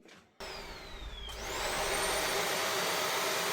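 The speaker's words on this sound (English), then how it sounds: "I'm trying it out with the brush on" A Dyson Ball Upright Animal Complete vacuum cleaner switches on with the brush engaged, its motor whining up and settling into a loud, steady roaring drone close by.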